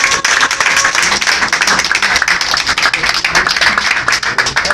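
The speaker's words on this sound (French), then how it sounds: "Applaudissez." A church congregation claps loudly at a testimony service, a dense, close roar of hands that goes on without pause for nearly five seconds.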